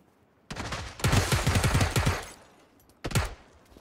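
Video game gunfire rattles out in bursts: a short opening volley, then a longer rapid automatic string of shots, a pause, and another brief burst, fairly close and without talk.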